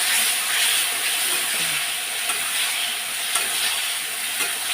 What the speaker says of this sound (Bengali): সব মশলা রেডি দিয়ে দিলাম এবার আমি কষিয়ে নেব